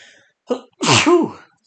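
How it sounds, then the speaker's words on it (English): A single sneeze during a live broadcast of national final voting, a short intake breath followed by a loud, close explosive burst, heard alone. "Oh, I'm gonna sneeze."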